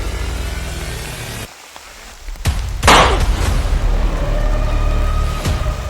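Heavy rain pours steadily in a broad wash of hiss, with a short quieter gap followed by a loud burst of louder downpour or gusting wind, then continuing strongly to the end.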